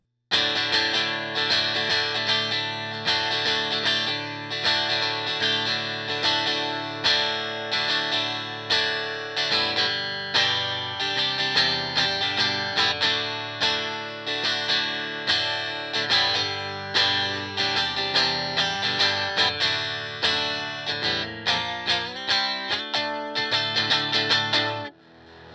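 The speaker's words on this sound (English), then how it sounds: "we can keep the gain down for clean tones." Electric guitar played on a Princeton amp at low gain with a clean tone, a steady run of strummed chords and picked notes ringing continuously and fairly loud, with no voices over it.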